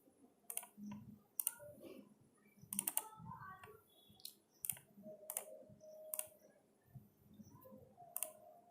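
A computer keyboard being typed on in short bursts of crisp clicks, quiet and close, with pauses between runs of keystrokes.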